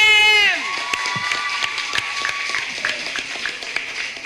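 Audience at a debate competition breaks into scattered clapping after a loud voice stops, with claps continuing as a light, uneven patter in the room.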